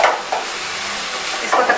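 Onion filling with salt and chili stir-fried over high flame for samosas, a brief close sizzle with a few scraping stirs and no voices.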